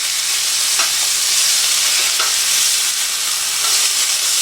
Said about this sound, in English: I think it's about time to flip these burgers over